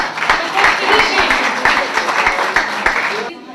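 A conference crowd at an International Women's Day event bursts into applause, loud rhythmic clapping with distinct close claps over the crowd, with murmuring voices, tapering off at the end.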